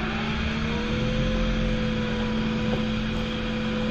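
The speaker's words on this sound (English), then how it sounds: "Fire up the turbo engine here." A boat's turbo engine at Maple Bay runs with a loud, steady droning hum and a constant tonal whine, close and continuous with no talk.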